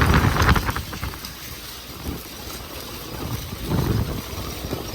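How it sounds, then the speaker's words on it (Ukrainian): Strong wind roars across an open wheat field where an MTZ-892.2 tractor spreads saltpeter. The gusts come in loud and close, with broad buffeting noise that rises and falls, and no voices are heard. "Вітер дує сьогодні капець."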